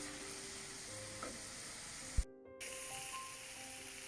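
Tomato onion gravy paste fries in a pan on medium heat, a steady moderate sizzle with occasional scraping stirs and one sharp clack, followed by a brief dropout before the sizzling resumes.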